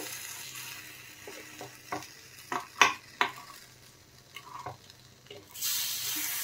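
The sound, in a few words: flipping and frying semolina appe in a pan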